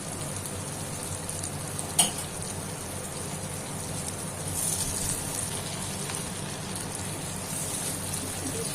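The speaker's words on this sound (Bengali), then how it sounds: "ভালো করে ভাজা হয়ে গেছে, আঁচটা কমিয়ে দিয়ে" Paneer frying in a pan sizzles in a steady, rain-like hiss, with one sharp clatter near the start and a slightly louder stretch midway.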